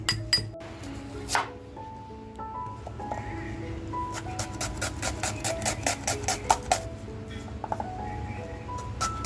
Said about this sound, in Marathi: आता जो कांदा घेतला आहे तो कांदा बारीक कापून घेते